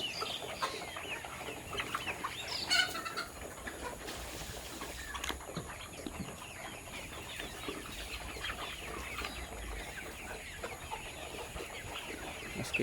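Sick chickens cluck and murmur in a coop, with scattered soft clucks and brief louder calls over a constant background hum, and no talking.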